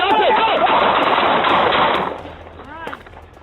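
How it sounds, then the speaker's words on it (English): Gunfire erupts during a police encounter, a loud dense burst of rapid shots for about two seconds that then fades, with a voice shouting briefly in the scene. "Shots fired."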